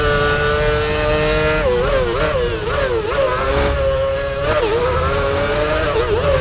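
A Formula One race car engine in the F1 Championship Edition video game, screaming loudly and continuously, then dropping pitch in stepped downshifts into a hairpin before revving back up.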